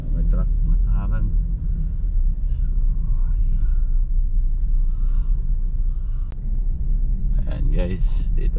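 A truck rumbles past on a busy city road, a deep low drone with traffic noise around it, a faint hiss of brakes, and voices talking over the passing vehicle.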